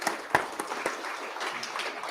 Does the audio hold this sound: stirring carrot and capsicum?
no